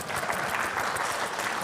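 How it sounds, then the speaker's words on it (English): A crowd claps steadily throughout a short burst of applause at a live stage event, a dense continuous patter with no voices standing out. "now that they're standing, let's clap."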